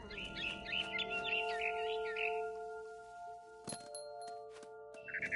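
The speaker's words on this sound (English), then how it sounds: "Then I heard chirping outside my window." A barn swallow chirps outside a window in a PS4 game, a quick run of bright, twittering calls over a humming ambient tone, followed by clinking game sounds and a brief final chirp.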